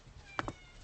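A kitten gives two short, faint meows in quick succession against a quiet indoor background.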